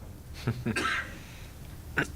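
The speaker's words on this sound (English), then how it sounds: "I got a cough." A few short coughs or throat-clearing bursts from one person, close by, with brief pauses between them in a quiet room during a school board meeting.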